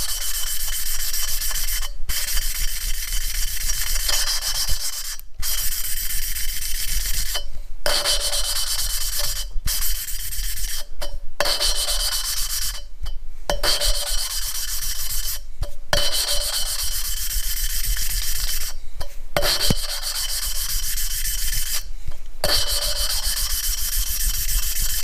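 Hand lapping of engine valves in LS V8 cylinder heads: a steady gritty rubbing and grinding scrape, rhythmic back-and-forth strokes broken by short pauses every couple of seconds as the valve is lifted and reseated.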